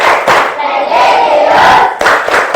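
Classroom students clap along to the rhythmic Tepuk PPK chant, loud and close, a crowd of young voices shouting in unison with bursts of clapping.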